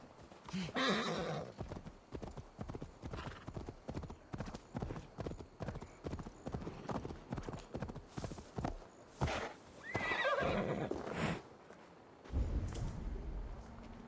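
A horse in the video game Assassin's Creed Valhalla clip-clops along in a steady hoofbeat rhythm, neighing loudly near the start and again toward the end, with a voice speaking briefly over it.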